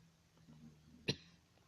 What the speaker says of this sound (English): One second, I need to cough.